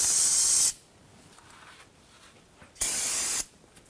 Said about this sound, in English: Be sure to clean up the rear diff using some spray solvent.